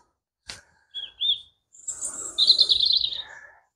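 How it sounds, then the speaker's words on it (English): Birds chirp and tweet outside St Mary's Church in Fotherby on an evening, with clear, close calls rising into a busy, bright song phrase, alone with no talk. "There's an abundance of birds tweeting"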